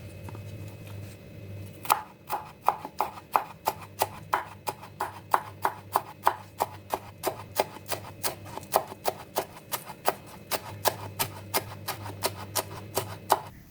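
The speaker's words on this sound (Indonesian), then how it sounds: "Satu batang daun seledri dipotong-potong kecil." Steady, rapid knife chops through celery on a cutting board, dozens of crisp even taps in a brisk rhythm, close by with no talking.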